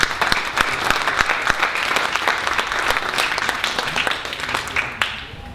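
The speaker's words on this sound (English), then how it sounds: "Let's give them a round of applause." A conference audience gives a sustained round of applause after an agricultural talk, with many hands clapping loudly and densely for about five seconds before it tapers off abruptly.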